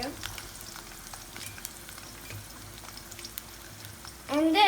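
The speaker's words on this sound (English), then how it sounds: "we're gonna add a little garlic to it, and then onion to it, a lot of onion to it" Garlic and onion frying in a pan for matar paneer, a soft, low sizzle with light crackles throughout, then a voice starts near the end.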